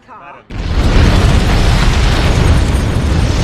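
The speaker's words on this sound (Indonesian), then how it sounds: "markas MI6 di tepi sungai Thames diguncang ledakan dahsyat" A huge, loud explosion at MI6 headquarters on the Thames bursts in after a quiet moment and rolls on as a sustained, rumbling roar.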